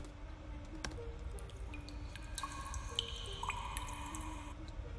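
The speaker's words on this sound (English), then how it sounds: "So we added some water drips." Background water-drip sound effect added to a Blender animation: scattered single drips and plinks echo softly over a low steady hiss, spaced irregularly with no talking.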